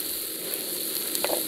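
Wine poured into a hot paella pan sets off a steady sizzle, close and continuous, with a brief brighter hiss near the end.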